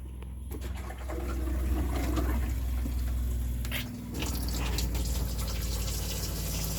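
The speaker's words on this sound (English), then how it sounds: "turning on the water pump for the second time" Water pump in a Sun Lite 16BH travel trailer camper running as water fills the plumbing: a steady, fairly loud droning hum with rushing water that dips briefly near the middle, with no talking.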